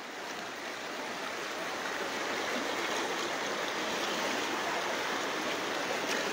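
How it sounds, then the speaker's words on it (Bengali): Floodwater current rushes through a flooded village in Rasulpur, Cumilla, a steady broadband roar of flowing water, close and unbroken, with no voices. "পানি যেদিকে চোখ দিবেন সেদিকে পানির স্রোত অধিক পরিমাণ"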